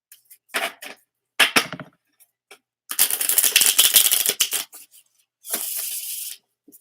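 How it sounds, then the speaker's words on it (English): A deck of tarot cards is shuffled, giving several short crisp riffling bursts and one long flutter of cards in the middle, with quiet gaps between them. "That was a smooth shuffle"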